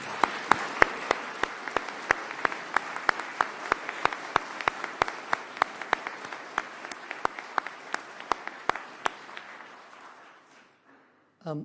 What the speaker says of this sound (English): I think another round of applause is due.